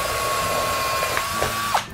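A drill cuts a seven eighths inch hole, giving a steady, loud mechanical whir that holds for about two seconds and then stops abruptly.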